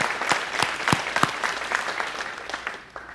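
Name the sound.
audience applause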